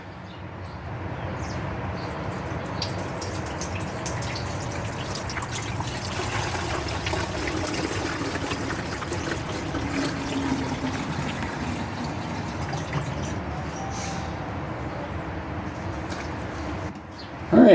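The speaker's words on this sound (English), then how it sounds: "we're just going to try running this Evap-O-Rust through it again" Evap-O-Rust rust remover poured through the fuel tank of a 1975 Yamaha 175 barn-find motorcycle, a steady close trickle and slosh of liquid running without pause, ending with a brief clunk.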